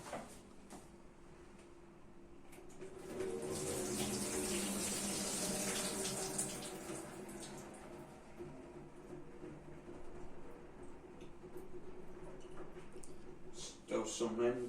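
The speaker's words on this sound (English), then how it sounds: "Going to drain off my spaghetti with a sieve over the sink." Spaghetti water drains through a sieve into a kitchen sink, a broad rushing splash that swells loudly for a few seconds and then tapers to a lighter trickle, with clanks near the end.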